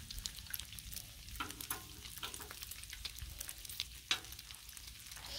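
Bacon frying on a Blackstone flat-top griddle, a close, dense crackle and spatter that pops irregularly throughout, with one sharper snap near the end and no talking.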